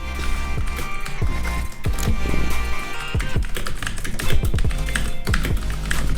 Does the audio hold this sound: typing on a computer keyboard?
yes